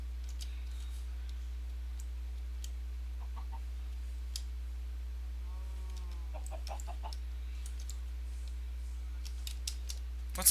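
A Minecraft chicken in the Better Than Wolves mod clucks in a few short, soft bursts over a steady low hum, with scattered keyboard clicks and no talking.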